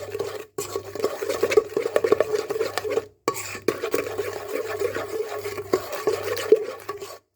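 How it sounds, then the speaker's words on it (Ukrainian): Honey cake batter with a teaspoon of baking soda stirred briskly in a bowl, a steady close scraping swirl with rhythmic low knocks of the utensil against the bowl, two short pauses, no voices. "Добре перемішуємо, щоб не було ніяких грудочок."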